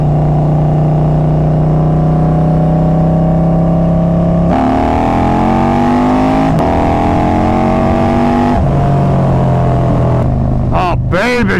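A Harley-Davidson Road Glide motorcycle fitted with carbon fiber wheels accelerates hard, its loud engine note climbing through several gear changes, heard up close with heavy wind noise.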